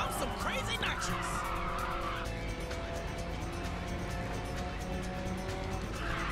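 A race car drifting in Ridge Racer 6, a rising tire squeal over a steady loud engine roar, close and continuous, with a person talking over it.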